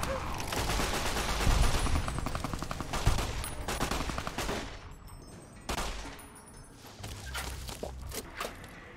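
Rapid bursts of gunfire from a gun in the video game Fallout New Vegas, loud and close, firing in several volleys with brief pauses between them, fading in and out over the stretch with no talk.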